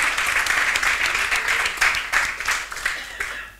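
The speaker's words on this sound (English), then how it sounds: "I think we should give her a round of applause." Applause fills a school of tourism and hospitality celebration at a Johannesburg university, a dense burst of clapping that rises in waves and slowly thins toward the end.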